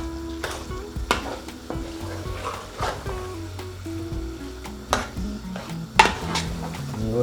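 Minced chicken for a keema matar curry sizzles softly in a pan while a utensil stirs and scrapes it, with several sharp knocks against the pan and a faint background hum.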